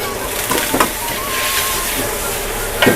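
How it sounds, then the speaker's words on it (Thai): Water hits hot oil in a wok while Hainanese-style chap chai vegetables and soaked wood ear mushrooms stir-fry, giving a loud, steady sizzling hiss with a few clanks and brief talk. "น้ำเจอน้ำมันนะครับก็เป็นอย่างนี้แหละครับผม"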